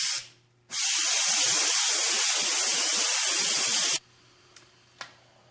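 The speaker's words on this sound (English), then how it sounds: "I'm going to do a quick release, which is simply moving this lever from sealing to venting or opening the pressure valve" A pressure cooker holding pumpkin vents through its valve on quick release, a loud, steady rushing hiss of steam lasting about three seconds before cutting off abruptly, followed by a couple of small clicks.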